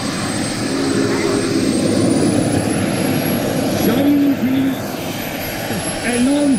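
A radio-controlled MD-11 model airliner powered by a turbine engine, about 22 kg, flying outdoors in rough conditions; a steady, loud turbine whine with a high tonal line holds throughout while someone talks over it.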